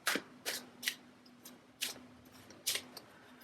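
Shamanic oracle cards being shuffled by hand, about half a dozen short papery riffles in an uneven rhythm, close and soft in a quiet room.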